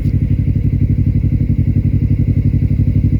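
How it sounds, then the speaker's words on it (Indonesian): A small Honda Zoom motorcycle on a Japanese street gives a loud, close, steady engine throb with a fast, even pulsing beat and no clear rise or fall. "Ini motor Honda Zoom yang kecil banget."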